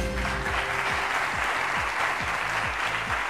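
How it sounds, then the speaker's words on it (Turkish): A studio audience on the Turkish quiz show Kim Milyoner Olmak İster applauds continuously and warmly, a thick even clapping sound with the show's tonal music sweeps and stings playing underneath. "Ay ne güzel alkışlıyorlar."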